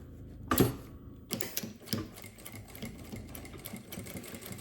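A sewing machine stitches a seam on a handbag, with a quiet rattling mechanical whir that starts after a brief thump and runs steadily in short bursts, near and faint.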